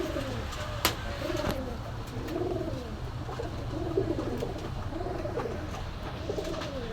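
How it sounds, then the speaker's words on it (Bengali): A pair of Sila pigeons, a male and a female offered at a pigeon market in Khulna, coo in repeated soft, rolling phrases, close and steady against a faint background murmur. "খুব সুন্দর সিলা কবুতর জোড়া।"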